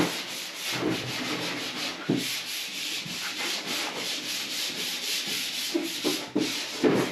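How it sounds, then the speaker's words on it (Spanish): Hand sanding of a car bumper with 320-grit sandpaper, a continuous close rasping with steady back-and-forth strokes and no talking. "ahora lijaré con esta lija de 320 toda la superficie del parachoques para igualarlo todo"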